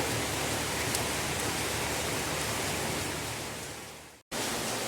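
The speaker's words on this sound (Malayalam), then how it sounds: "ഇന്നിവിടെ നല്ല മഴയാണ്. അതിന് ചെറിയ ഒച്ചയൊക്കെ ഉണ്ട്" Heavy rain falls in a dense, even hiss, loud and unbroken, with a brief drop-out near the end.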